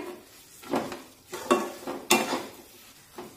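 Cashew and almond slivers are stirred into semolina and banana in ghee for sheera: a soft sizzle under a few distinct scraping strokes of a spoon against the pan, close by with no talking.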